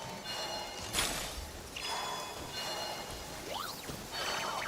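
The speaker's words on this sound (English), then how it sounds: "Taking shelter and listening to the rain cleanse the earth makes me feel safe." Rain falls in the video game Genshin Impact as a steady, soft hiss of drops, with faint tonal game sounds sweeping over it and no talking.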